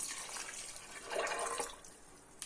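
Cold boiled water is poured for a smoothie, a faint, soft splashing pour that swells briefly and then trails off, with no talking.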